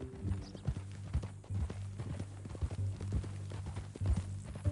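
Horse hooves clip-clop steadily in Red Dead Redemption 2, a close, rhythmic run of hoofbeats on the ground repeating throughout with no talk over them.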